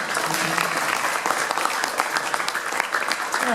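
Audience applause at an anniversary evening event aboard the USS Intrepid in New York, dense continuous clapping from a crowd, with voices mixed in underneath.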